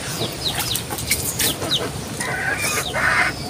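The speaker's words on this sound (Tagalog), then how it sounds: "Dami kasi manok." Chickens clucking with a few higher squawks, a busy flock heard close by over steady background noise, no talking.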